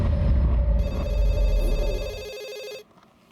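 A telephone at a police station rings loudly and close, a continuous electronic trill that stops abruptly, leaving quiet room tone.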